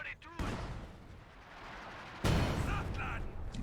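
Rumbling artillery barrage shells landing against heavy cover in Company of Heroes 2, two dense booming impacts with a sharp one midway, with a commentator talking over them.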